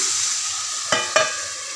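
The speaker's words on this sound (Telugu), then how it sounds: "మూట పెట్టి కాసేపు టమాటా మగ్గనివ్వాలి" Tomatoes cooking in a covered pan for bitter gourd tamarind curry give a steady soft sizzle, with two brief louder clatters or stirs near the middle.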